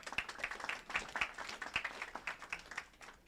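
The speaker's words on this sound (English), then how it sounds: "Let's give a round of applause for everyone who helped put on this event" Faint, fairly sparse clapping from a small audience at a hardware and semiconductor meetup, heard as distinct individual claps at a distance that taper off over a few seconds.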